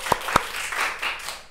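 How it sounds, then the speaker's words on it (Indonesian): A small audience at a campus talk show claps to welcome a guest. Two sharp single claps are followed by a brief, light scatter of applause at moderate distance. "Oke, tepuk tangan dulu dong buat Kak Diki."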